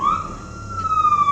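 A Rescue 1122 ambulance siren wails steadily, a loud, sustained electronic tone that sweeps gradually in pitch without pause.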